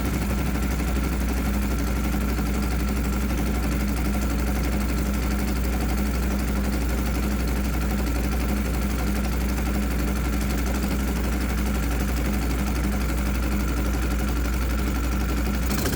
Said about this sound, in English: Right now, the load is just shy of stalling the engine, so this engine's working real hard.